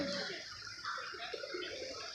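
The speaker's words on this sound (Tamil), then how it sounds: "தண்ணி வருது பாருங்க சைடில்" Water flows and splashes steadily nearby, a continuous bubbly rush with no voices.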